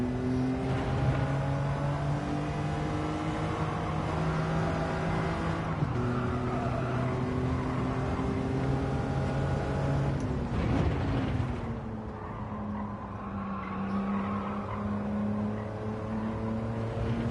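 A BMW Z4 races around the Sardegna circuit in Gran Turismo 7, its engine droning loud and steady with rising and falling pitch through gear changes and a brief dip while braking.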